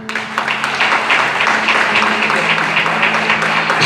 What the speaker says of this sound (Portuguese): Palmas para o Rei.